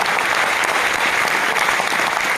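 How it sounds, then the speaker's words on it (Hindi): Audience applause at a business leadership talk, a dense steady sustained clapping from a crowd filling the space, loud and continuous throughout with no voices on top. "एक बार ताली बजाइए।"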